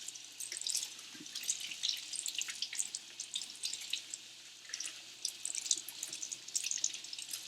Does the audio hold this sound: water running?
yes